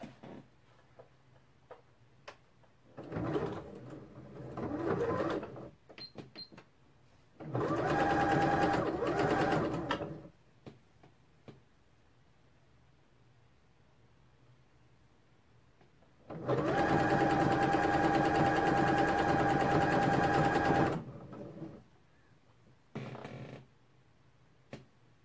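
Sewing machine hemming a fleece pullover with cream thread, running in several separate bursts of steady stitching, the longest about four seconds, with quiet gaps between them and no talk.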